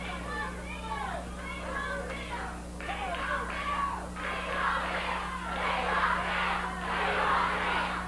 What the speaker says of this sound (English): Crowd hollering, "We want Bill."